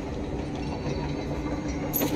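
A powered train rolls along in Control: AWE with a steady low mechanical rumble and a faint hiss, and a brief brighter burst comes near the end.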